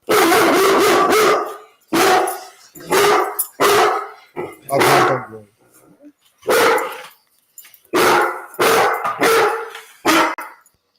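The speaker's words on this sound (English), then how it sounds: "this is an attack dog going after them" An attack dog barks in loud, close bursts, some single and some clustered, with a few softer whimpering yelps between them.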